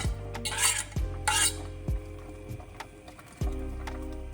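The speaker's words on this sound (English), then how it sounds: "So we'll add the plantain at this point to cook with the yam." Yam and plantain cooking together in a pot for yam porridge, heard as a series of near metallic clanks and scrapes of a spoon against the pot with soft bubbling and stirring between them.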